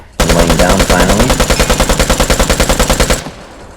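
An automatic rifle fired from a prone position in the video game Vigor: a loud, close burst of about twenty rapid, evenly spaced shots lasting around three seconds, then an abrupt stop.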